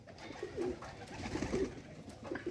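Pigeons in a loft, flute-type birds, give soft, low, throaty coos in short repeated bursts, close by against a faint background hiss.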